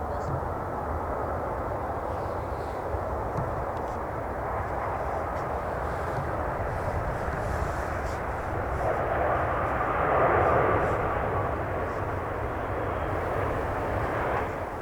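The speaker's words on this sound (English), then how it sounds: "This Saudi is going to Jeddah. It is a Boeing 787-9 Dreamliner." A Saudi Boeing 787-9 Dreamliner at Manchester Airport bound for Jeddah roars with a loud, steady jet-engine rumble that swells near the middle and stays strong throughout, with no talking.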